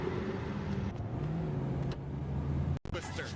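A car engine revving in the video game Saints Row, a mid-pitched motor that climbs and settles under game sounds, with someone talking over it and a brief dropout near the end.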